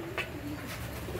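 Pigeons cooing outdoors, a soft, muffled low coo over steady background hum, faint and brief with no voices.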